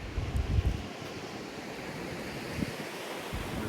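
Ocean surf washes onto a beach near the Leven River at Ulverstone, a steady low roar with a heavier rush at the start, wind buffeting the microphone.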